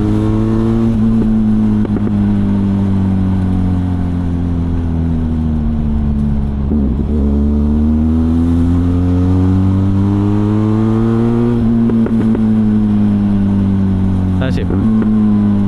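A Benelli TRK 502X motorcycle engine accelerates hard and shifts gears in quick succession, its steady loud drone rising and dropping in pitch with each change, close up over constant road and wind noise.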